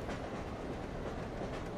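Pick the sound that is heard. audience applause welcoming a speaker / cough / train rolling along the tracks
train rolling along the tracks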